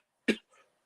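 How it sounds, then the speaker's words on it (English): One short, sharp cough sounds close by in a quiet room, followed by a softer trailing breath. "I'm just straight up coughing up here."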